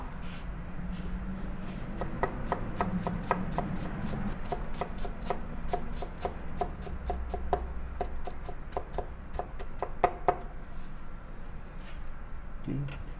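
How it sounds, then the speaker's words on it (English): A knife chops octopus into small pieces on a cutting board for a sushi roll, close rapid taps in uneven bursts over a soft background hum, with a voice talking at times. "cutting smaller, chop it up."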